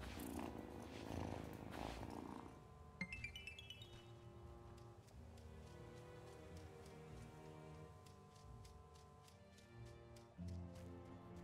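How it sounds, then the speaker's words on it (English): A cat in the cozy farming game Wylde Flowers purrs softly and steadily beneath gentle chiming game music with plucked notes, quiet throughout and with no talk over it. "Such a good cat."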